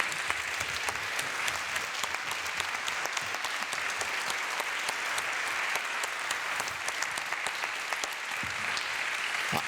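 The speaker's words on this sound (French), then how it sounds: "on va quand même applaudir pour Jacques pour tous ces..." Sustained audience applause and ovation for Jacques Séguéla at the close of a conference, a dense, even roar of many hands clapping that continues for the full stretch.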